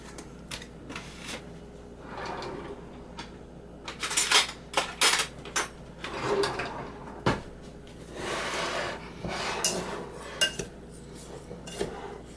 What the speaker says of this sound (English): So just give it a mix through so that you mix up your sugar and your pectin.